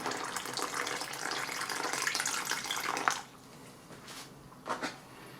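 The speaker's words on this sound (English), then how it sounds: "And water to that fill line." Cold water poured into an MRE ration heating bag from an Estonian military 24-hour ration, a steady gushing pour for about three seconds, then quieter handling with a couple of brief splashes.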